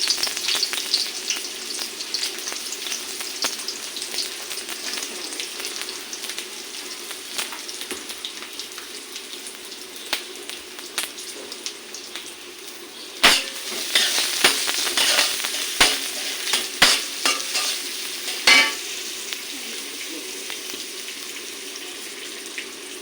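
Bitter gourd and potatoes frying in hot oil with a constant crackling sizzle, joined later by a run of sharp spatula scrapes and clanks against the pan, no talk.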